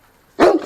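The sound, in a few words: big dogs barking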